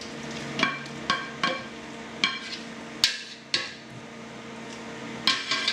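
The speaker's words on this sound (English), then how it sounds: "we're now going to take them out of the pan" Cooked portobello mushrooms lifted out of a frying pan, with a series of sharp metallic clinks and scrapes of a utensil against the pan over a faint sizzle, close and fairly loud, spaced irregularly.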